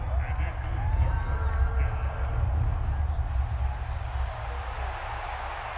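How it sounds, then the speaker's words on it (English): Stadium crowd roar from the Madden NFL 24 football video game, a steady, dense wash of fans making noise that holds loud throughout, with commentary-style talk layered over it. "this crowd doing their best to make a lot of racket"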